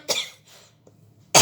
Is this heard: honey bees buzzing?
no